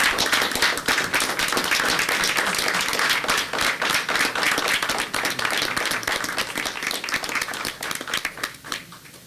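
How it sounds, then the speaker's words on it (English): Audience at a borough council meeting applauding Grand Marshals of a 4th of July parade: dense, steady clapping from many hands filling the room throughout, loud and continuous before thinning slightly near the end. "would you all give Bill and his wife a round of applause?"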